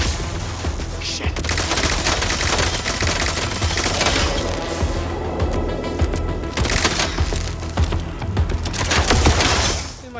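Rapid, dense pistol gunfire in the video game Mindseye, with shots cracking in continuous bursts over explosions and debris clatter throughout, loud and close with a voice occasionally under the noise.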